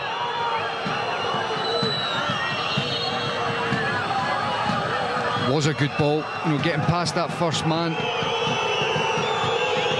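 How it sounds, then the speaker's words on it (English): Home football crowd at an Apollon match in a stadium, a broad steady roar of fans rising into excitement, heard beneath a commentator talking over it. "You hear the home crowd getting a little bit excited."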